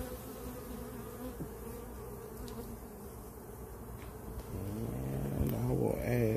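Honey bees buzz at an open beehive during feeding and a checkup, a dense steady hum close by that swells louder toward the end, with faint handling sounds and no speech.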